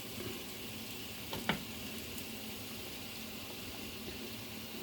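Shrimp sautéing in a pan give off a steady, even sizzle with faint stirring scrapes and one brief clink, moderately close and without talk.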